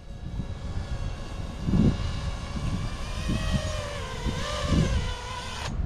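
A radio-controlled quadcopter comes in to land, its propellers giving off a steady close whirring whine that bends up and down in pitch over a constant motor hum.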